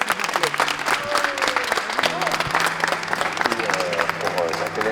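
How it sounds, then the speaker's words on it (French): Crowd at a Fortnite FNCS event applauds two drummers, with broad clapping and cheering running throughout under voices and some tonal background sounds. "Tonnerre d'applaudissements pour nos deux personnes au tambour"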